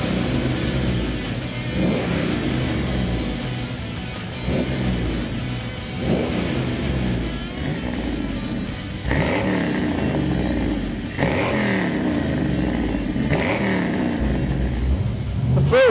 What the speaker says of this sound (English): the car's fitted with a 535 horsepower fuel-injected V8 engine, and it's bolted to a manual 5-speed gearbox